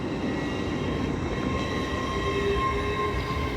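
An LNER Class 801 train, unit 801-214, rumbles steadily at York station on the East Coast Main Line, a close, continuous low drone with faint high tonal whines and no talking.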